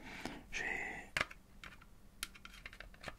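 A screwdriver working on a Nintendo 64 controller, quiet close clicks and plastic taps with a brief scraping rattle early on, scattered and irregular.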